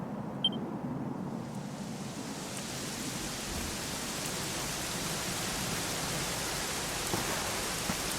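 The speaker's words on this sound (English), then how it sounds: "it was raining like this the last time I ever saw her" Steady rain falls in the Dragon Quest XI game world, a dense, even hiss of drops spread across the whole clip. Faint chimes sit lightly on top, and no voices are heard.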